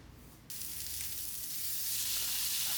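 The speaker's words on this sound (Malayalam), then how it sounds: "പിന്നെ ഇപ്പോൾ വലിയ ഉള്ളിയും പച്ചമുളകൊക്കെ അതൊക്കെ നന്നാക്കി വഴറ്റിയെടുക്കാം" Onions and green chillies frying in a pan for sardine curry, a quiet start that jumps into a bright, continuous sizzle that grows slightly louder, close by with no voices.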